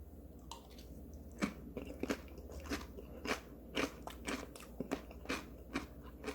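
Close, crisp crunching as someone chews a crunchy cucumber and cabbage pickle, with repeated bites and chews in an uneven rhythm and no talking.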